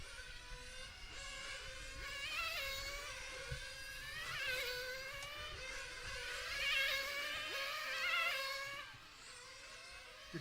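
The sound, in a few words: RC cars racing around a track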